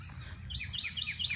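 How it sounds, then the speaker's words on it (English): Hawks call in a series of thin, high, repeated cries from a short distance over low background noise near a chicken nest box in spring. "Oh, but yes, I hear the hawks"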